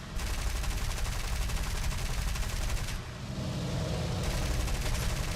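Dense, continuous anti-aircraft fire from a flight in the video game ESO rattles on loudly in rapid bursts with only a brief dip midway, under a constant roar of battle noise.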